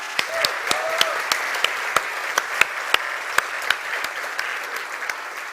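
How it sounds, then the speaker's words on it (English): An audience at a tech conference gives an evenly sustained round of applause, with individual sharp claps punctuating the dense crowd clapping at regular intervals throughout. "let's give them one big round of applause also"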